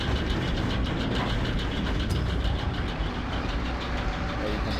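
A steady mechanical rumble like a small train rolls continuously in the Oddworld New 'n' Tasty game, a dense low chugging drone with a faint hiss above, moderately loud and unbroken.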